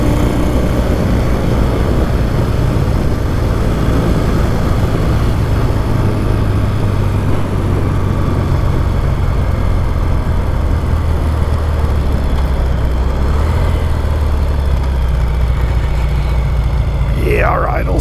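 A classic Triumph Bonneville T140V motorcycle engine running nearby, a steady low throbbing rumble that holds evenly throughout with a slight shift in pitch near the end.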